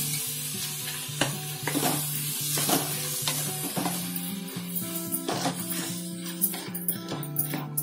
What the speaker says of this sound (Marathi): आता आपण त्याच्यामध्ये हे फोडलेले वाल ते घालायचे